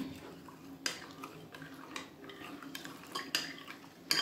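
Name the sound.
stirring African sweet fritter batter with natron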